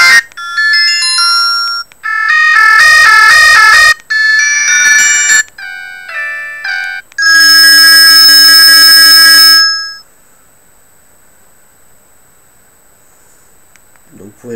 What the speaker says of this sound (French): En appel entrant, voici quelques exemples de musique et de sonnerie.